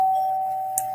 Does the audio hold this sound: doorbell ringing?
yes